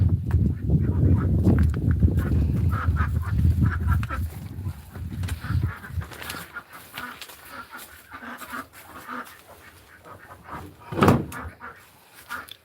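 Loud, raucous bird calls ring out repeatedly, dense and overlapping at first, then thinning into scattered cries with one sharp burst near the end.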